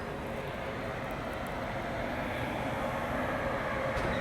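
A train departs Nagpur station, heard as a steady low rumble and rolling rail noise with a faint hiss above, continuous and fairly distant, without talk.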